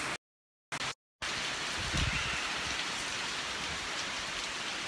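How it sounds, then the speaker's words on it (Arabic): Steady, dense rain pours down outdoors during a sudden shower in Asia, a constant hiss broken only by two short dropouts at the start, with no talking. "شتي شتا هادي انا ماشي واتر بروف"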